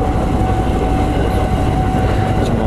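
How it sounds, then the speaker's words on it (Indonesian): A train rolls past at a railway crossing at night with a loud, continuous, steady rumble and rail noise close by, with no voices. "Nah ini kadang ada yang sekali ada yang dua kali nih kereta lewatnya."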